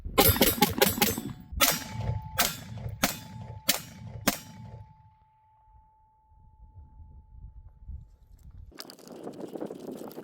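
Several sharp gunshots from a Bear Creek Arsenal 5.56 pistol, a quick burst of rapid shots then a few spaced single reports, loud and close with ringing decay, followed by quiet and rustling outdoor noise.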